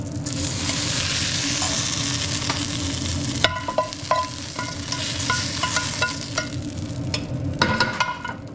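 Carrots and onions frying in a pan sizzle steadily and close, broken partway through by clattering stirs and scrapes of a utensil against the pan, with no talking.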